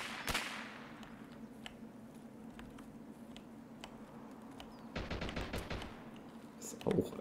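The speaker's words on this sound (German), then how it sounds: "ich höre nur Schüsse" Gunfire in the video game Escape from Tarkov: scattered faint, distant single shots over a quiet, humming background, then a brief rapid burst of automatic fire, with a soft voice near the end.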